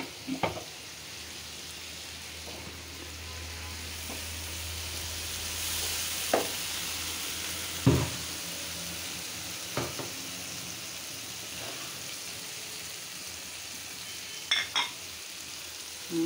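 Bhuna masala spice paste sizzles in a covered pan, a soft, steady, fairly faint frying hiss broken by a few sharp clinks and taps.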